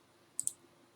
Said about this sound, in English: you need to right click, extract all